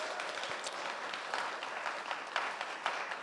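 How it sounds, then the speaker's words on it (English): Audience applause at a graduate capstone symposium welcome, a steady wash of many hands clapping at moderate level throughout, with a few sharper claps standing out. "Can we get a round of applause for Hannah?"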